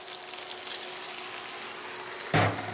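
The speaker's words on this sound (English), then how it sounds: "Now I'm gonna add my corn. to my skillet." Fresh corn added to a hot skillet sets off a sudden loud sizzle near the end, breaking through a steady, low frying hiss.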